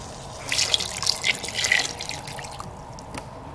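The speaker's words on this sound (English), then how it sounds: "I'll add water. I need to cover my potatoes fully." Water poured into a kitchen pot to cover potatoes for mashing, a steady splashing trickle with drips, close and moderately loud, no talk.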